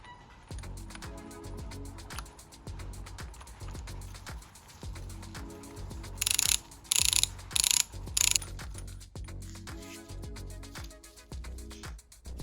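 Rapid ratcheting clicks from a wrench repeatedly turning a 21mm screw on a vintage Shimano bike bottom bracket, close and continuous, with a few louder bursts of clatter midway.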